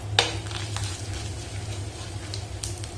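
Crushed cumin and black pepper drop into hot oil for rasam and sizzle steadily with a bright, crackling hiss, opening with a sharp clink as they hit the pan.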